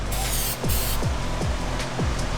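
Steady broadband hiss of an aerosol can spraying undercoating on the underside of a BMW E36, running continuously, with a few low descending whooshes passing underneath.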